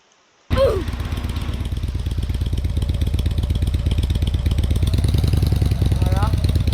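Motorcycle engine in the Roblox Bloxburg video game, starting abruptly and then running loud and steady with a rapid, buzzing pulse throughout.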